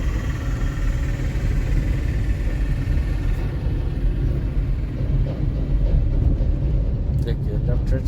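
Steady road rumble and engine noise from inside a moving car while a vehicle passes on the left side of the road, with a driving instructor talking over it throughout.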